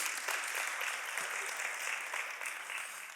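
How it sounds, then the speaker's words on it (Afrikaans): Church congregation clapping at a Mother's Day service, a sustained, fairly even round of applause from many people filling the room, no speech over it. "ons kan vir haar hande klap"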